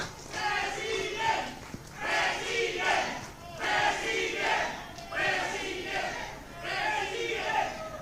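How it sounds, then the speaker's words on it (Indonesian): Large rally crowd at a presidential campaign speech for a 2024 candidate, cheering and clapping in repeated loud surges about every second and a half, with no talk over it. "Boleh berikan tepuk tangan yang meriah buat kita semua"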